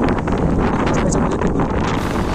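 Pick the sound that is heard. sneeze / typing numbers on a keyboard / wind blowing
wind blowing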